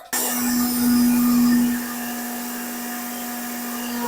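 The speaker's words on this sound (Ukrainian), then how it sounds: "У мене немає погружного блендера, тому буду використовувати свій чашоподібний" A countertop blender blending bean soup roars at steady high speed, close and loud, its motor tone holding constant through the clip with no talking.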